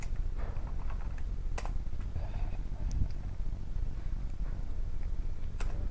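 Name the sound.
typing on a computer keyboard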